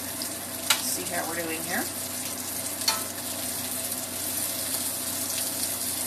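Sausages fry in a pan with a steady crackling sizzle throughout, broken by a couple of sharp clicks as pieces are flipped, while someone talks briefly over it.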